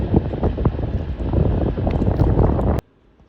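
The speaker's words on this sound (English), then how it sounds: "It's gotten pretty windy out." Strong wind buffets the microphone outdoors near open water with boats about, a steady rough roar that cuts off abruptly near the end.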